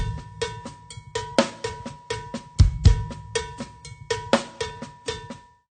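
Latin drum groove on a kit with the hi-hat marking every downbeat, busy sticking over low kick thumps, punchy and close for a few seconds with a bright metallic ring and no voices.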